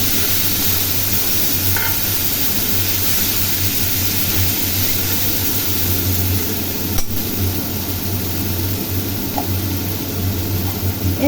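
Onion, garlic, ginger, chili and tomato paste sizzle in hot oil seasoned with panch phoron for a Bengali rui fish curry, a steady loud hiss that holds throughout with faint occasional clinks.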